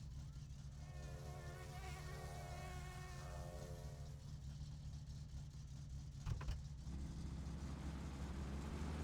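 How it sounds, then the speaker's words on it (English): A fly buzzes in the game My Summer Car, a thin whining drone that wavers near the listener for a few seconds before fading, over a low steady engine-like hum and a brief clatter. "There's two different types of buzzing you can hear. One for the fly and a deeper one for the wasp."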